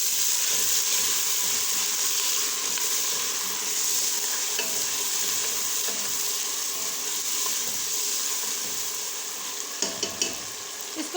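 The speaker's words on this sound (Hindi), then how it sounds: "5 मिनट तक फ्राई करेंगे।" Onions browned with tomato and ginger-garlic paste fry steadily in a pan for chicken haleem, a continuous close sizzle with occasional stirring scrapes and a few sharper clinks near the end, no voices.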